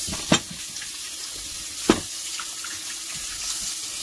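Cucumbers rinsed clean under a running kitchen tap, a steady stream of water with two brief sharper splashes as the vegetables move beneath it, close and without talk.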